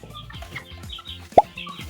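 Broiler chickens in a poultry house cluck and murmur softly and continuously, with one brief louder pop partway through.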